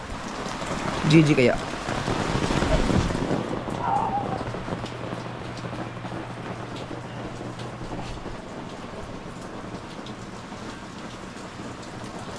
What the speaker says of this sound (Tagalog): hindi talaga hindi huminto ang ulan.